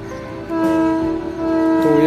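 A four-coach KCR train with two brake vans and two passenger coaches pulls out of Malir station, sounding a loud, sustained horn in two long blasts with rail noise underneath.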